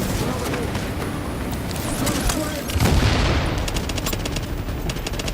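Sticky bomb explosions and gunfire in The Division video game, a dense continuous barrage of booms and rapid shots with a heavier blast midway, all loud and layered.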